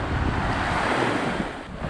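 Sea waves wash steadily onto a beach at PMY during rising tide, mixed with strong wind buffeting the microphone, a continuous loud broadband roar with no talk, heard while shore fishing for the Hed Khon fish.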